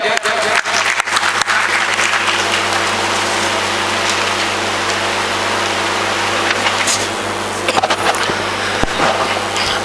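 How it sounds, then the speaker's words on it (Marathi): A crowd in a Marathi public meeting hall breaks into loud, sustained applause for a speaker, a dense wash of clapping that continues for about ten seconds with a few sharper individual claps. "जोरदार टाळ्या झाल्या पाहिजे"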